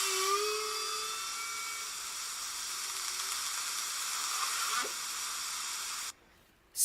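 A drawn-out, wavering humpback-style song moan from the East Australian whale population, recorded in 2003, over constant hiss, followed by a short low whop, before the recording drops away.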